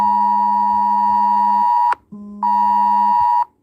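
A phone's emergency alert tone for a child abduction in Rockwall, Texas blares in two long, loud, steady blasts, separated by a brief drop, with no talking.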